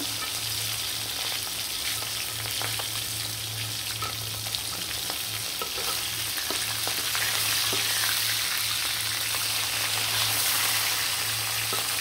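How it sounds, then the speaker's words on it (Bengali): Bhetki fish fries in hot oil in a pan, a loud, continuous close-up sizzle with steady crackling spatter throughout and a low hum underneath. "খুব লাল লাল করে কিন্তু মাছটা ভাজা হয়ে গেছে"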